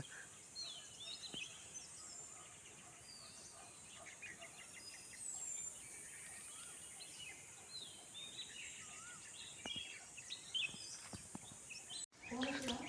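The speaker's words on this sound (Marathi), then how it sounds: "तुम्हाला आवाज येतो आहे किती भारी भारी पक्ष्यांचा आवाज येतो आहे" Bright bird chirps and twittering fill the air, overlapping calls near and far, with a faint insect buzz underneath.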